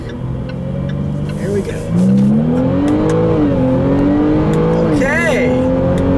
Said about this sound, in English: Let's go for another acceleration though here, shall we?